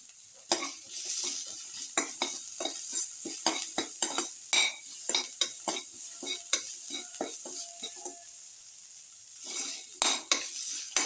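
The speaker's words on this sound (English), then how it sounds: "Thoroughly salt and mix." Salt is mixed into garlic, cottage cheese and tomato casserole ingredients in a dish, a utensil scraping and clacking against the dish in a steady run of close stirring strokes, with no talking.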